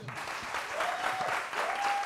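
An audience at a live show in Abidjan claps in a steady, moderate patter, somewhat distant, with faint voices and a thin whistle-like tone over it.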